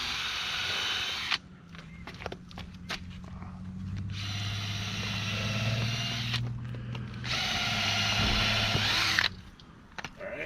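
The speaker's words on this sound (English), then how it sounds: "we're going to pre-drill these holes right through the old bunk" Power drill pre-drilling holes through an old wooden boat trailer bunk into a new one, several sustained whining bursts separated by short pauses, close and fairly loud.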